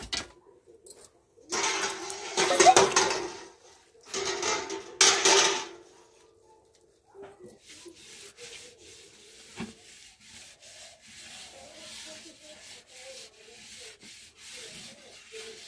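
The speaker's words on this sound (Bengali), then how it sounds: "এখন মাটির লেপ দিয়ে নিব পাতিলে" Wet clay coating is rubbed and smeared by hand onto a cooking pot: two bursts of scraping, gritty rubbing, then a stretch of softer dabbing and patting, close and alone without talk.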